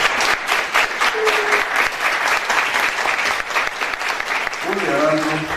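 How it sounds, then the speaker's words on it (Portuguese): Loud, dense applause from an audience, continuous throughout with a few voices faintly audible underneath. "por favor, palmas para ela."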